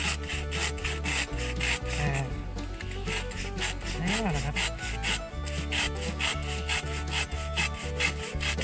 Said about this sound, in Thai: ผมใช้เลื่อยนะครับ